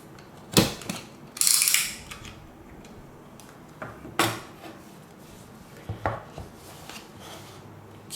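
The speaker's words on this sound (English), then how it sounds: "Let's cut open the seal." A penknife cuts the seal on a Samsung Galaxy Note10 phone box with a few sharp, separate scratching and snapping strokes between quiet gaps, close up and without talk.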